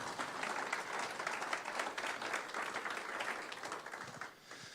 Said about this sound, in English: I think she deserves another round of applause for that kind of stuff